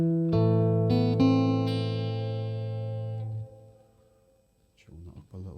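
A short Tudor-style riff picked on guitar: a few plucked notes in quick succession, the last one ringing and fading, followed by a pause and some faint handling noise at the end.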